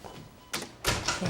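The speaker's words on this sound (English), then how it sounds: "Why don't you close the door?" A door is pushed shut indoors: a brief sliding rush followed by a louder thud and rattle of the latch, close by with no talking.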